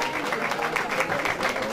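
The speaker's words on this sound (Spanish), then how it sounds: "Fuerte el aplauso, por favor." Audience applause at a traditional music awards ceremony honoring a singer, a steady wash of clapping filling the room for a brief moment, with voices mixed in.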